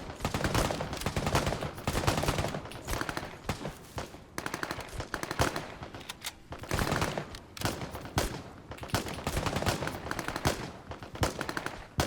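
Scorpion submachine gun fire in a video game convoy ambush on Russian troop transports: a thin, crackling smattering of rapid bursts that keeps coming in waves for the whole stretch, loud and dense with short gaps.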